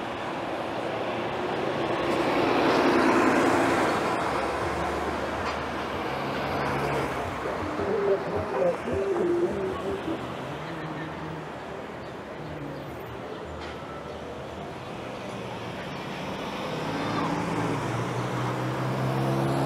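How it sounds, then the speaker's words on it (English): Traffic streams along Center Street in Boston, a continuous roar of cars passing near and far that swells and fades as vehicles go by, with no voices. "there's always traffic. There's always cars coming up and down"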